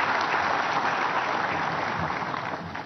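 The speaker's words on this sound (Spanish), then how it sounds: "Para todos, un fuerte aplauso de bienvenida" Welcoming applause from a congregation at a Catholic Mass during the novena of the Virgin of Caacupé in Caacupé, Paraguay: dense, steady clapping from a large crowd, loud and continuous throughout, tapering slightly at the end.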